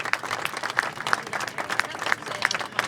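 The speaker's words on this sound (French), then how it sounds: "vous pouvez applaudir la Marina Militare qui nous fait l'honneur de participer" An audience applauds the Italian navy (Marina Militare) delegation at a delegation presentation honouring Italy, with steady moderate clapping and some brighter claps standing out over the crowd.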